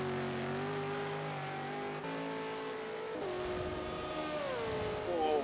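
A V8 Supercar engine in a racing video game drones loudly and steadily at high revs, shifting pitch through gear changes and rising again on acceleration.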